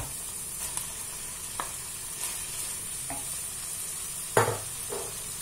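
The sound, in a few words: stirring chicken, olive and vermicelli filling in a pan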